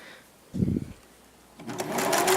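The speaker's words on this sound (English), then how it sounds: "Now we're going to set it in our sewing machine." A brief mechanical whir, a pause, then a sewing machine starts running steadily, a close, continuous buzzing hum of stitching fabric.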